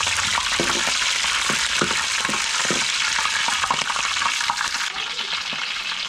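Green chilies fry in hot oil with popping mustard seeds, a loud continuous sizzle with scattered crackles and pops up close, while cooking Kerala-style kappa biriyani.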